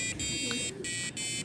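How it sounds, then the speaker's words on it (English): A buzzer alarm on an Arduino kitchen timer, sounding as a bright, harsh electronic tone in short repeated bursts separated by brief gaps, close and clear. "then the alarm will turn on."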